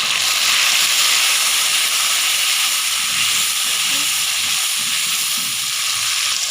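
Cubed tomatoes fry with golden onions in a pan, producing a loud, dense, steady hiss of steam and sizzle that continues without a break.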